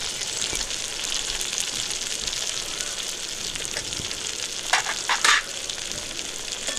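Tomatoes with salt and turmeric sizzle steadily in a pan as they are stirred, a continuous close frying hiss with a few louder scraping stirs near the end.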